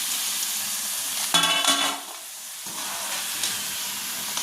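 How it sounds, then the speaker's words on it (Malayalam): Masala-coated potatoes drop into hot oil and fry with a loud, steady sizzle and hiss, briefly flaring into a sharper crackle before settling back to a continuous bubbling. "എണ്ണ ചൂടായിട്ടുണ്ട്. നമുക്കതിലേക്ക് ഈ മസാല വെട്ടി വെച്ചിരിക്കുന്ന ഉരുളൻകിഴങ്ങ് ഇട്ട് കൊടുക്കാം."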